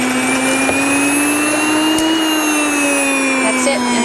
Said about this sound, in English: So it's going to be loud. We're just going to grind a little bit.